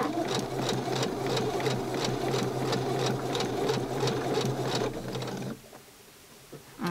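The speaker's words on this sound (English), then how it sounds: "We are sewing over the edges." Sewing machine stitching rapidly along fabric edges for a Barbie holiday outfit, a close steady mechanical chatter that stops after about five seconds, leaving a few faint clicks.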